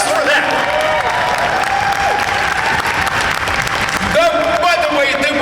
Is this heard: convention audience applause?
yes